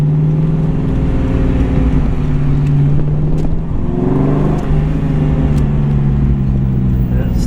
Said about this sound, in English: we've got it out on the road, and I'm the first to admit it doesn't have a whole lot of horsepower, but boy, she's got some torque